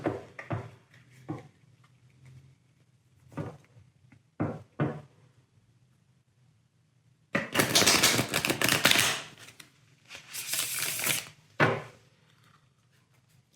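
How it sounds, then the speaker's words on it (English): A tarot card deck is shuffled in two close, crisp riffling bursts, each lasting a second or two. Before them come scattered light taps and knocks from handling the cards in a quiet room. "Just going to reshuffle my deck."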